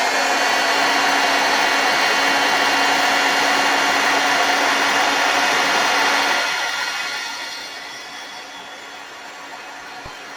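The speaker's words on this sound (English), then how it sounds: "Get my heat tool out, and it's a little bit, it's got ink and paint all over it, so but again, it's a bit of an Old Faithful, so could be a bit noisy" A well-worn, ink- and paint-spattered heat tool blows steadily while melting embossing powder for card making, a loud hissing whoosh that drops to a quieter rush after about six seconds, with no talking.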